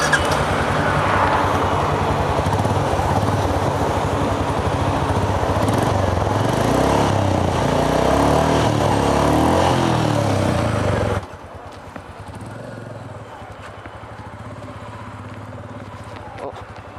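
A Royal Enfield Meteor 350 motorcycle engine running loud and close with a steady throbbing idle, then cut off abruptly partway through, leaving quieter ambient noise, with brief talk around it.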